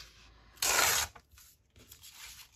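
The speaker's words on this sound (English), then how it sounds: "I'm going to tear that off. So I need to tear it there." Paper from a junk mail envelope tears in one quick, loud rip close by, followed by softer rustling and handling noises.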